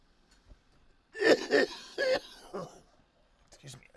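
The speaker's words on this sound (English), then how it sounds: "I might have to go and cough somewhere else for a second" A person on a livestream coughs and clears their throat in a short cluster of harsh, rasping bursts close to the microphone, followed by a quieter breathy throat noise.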